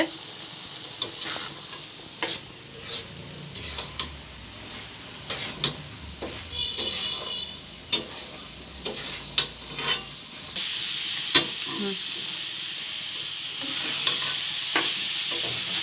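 Egg and milk zarda cooking in a pan, with a spoon scraping and stirring in repeated strokes over a soft sizzle that becomes a steady, louder hiss near the end; no voices.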